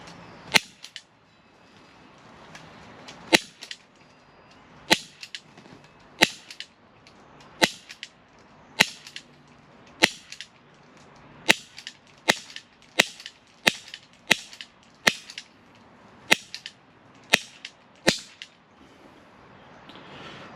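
A 6mm Colt 1911 rail airsoft pistol fires about twenty sharp, snappy shots, spaced roughly a second apart, each crisp and close with quiet mechanical handling between them.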